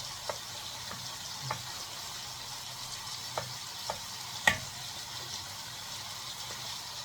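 Chicken liver sautéing in a pan gives a steady, soft sizzle throughout, with a few light clicks of stirring scattered over it, close and fairly quiet.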